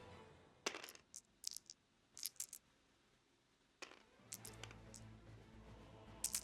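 Several dice clatter and drop onto a table during a tabletop miniatures game, in quick separate bursts of sharp clicks across the span, fairly quiet with no talking.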